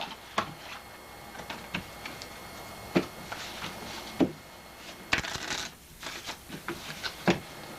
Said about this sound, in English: take that deck out there and go ahead and start shuffling it